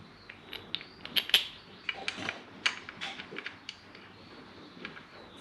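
Ratchet clicking in short, uneven bursts as a bolt is tightened while a Gilmer belt drive is fitted to a 1UZ engine in a Hiace van, close up and fairly quiet, with no talk.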